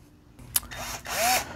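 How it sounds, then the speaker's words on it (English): A drill boring an 11/16 hole into the frame of a Toyota RAV4 during a hitch weld nut repair, heard as a short, fairly quiet burst of bit grinding into metal after a brief click and pause. "So let's go ahead and cut the hole in the frame and install the rivet."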